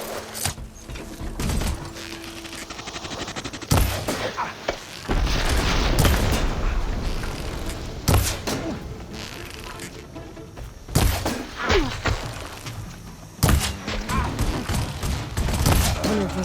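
Gunfire in the video game Horizon Forbidden West: loud booming bursts and rapid volleys break out repeatedly, between stretches of mechanical clatter and rumbling battle noise.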